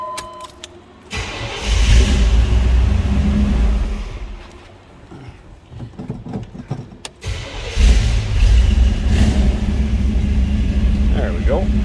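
A cold 1990 Chevrolet K5 Blazer 4x4 cranks briefly, catches and settles into a loud, steady idle, with a second revving surge later on; someone talks over the rumble.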